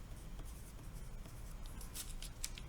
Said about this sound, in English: We need to write this down.